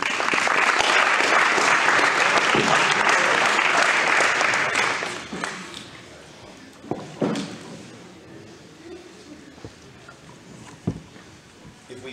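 Audience applauds at a gathering, a loud, dense burst of clapping that lasts several seconds, then tapers off into scattered claps and quiet room noise.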